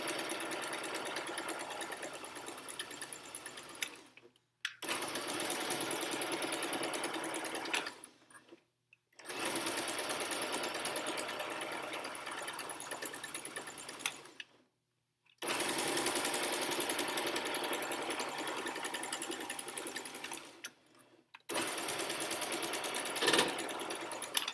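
Sewing machine stitching a pee pad, running in four long steady buzzing stretches broken by brief silent pauses, close and fairly faint.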